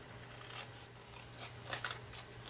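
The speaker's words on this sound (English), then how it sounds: "I'm going to come over here and I'm going to cut out 2." Scissors snip through paper card pieces during a craft project, producing soft, quiet crisp cuts in a close, hushed setting with steady low background hum.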